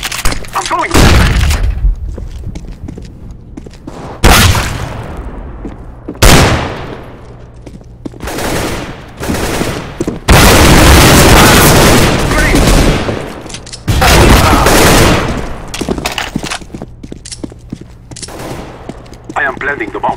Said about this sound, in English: I'm throwing grenade. Smoke. Flashbang.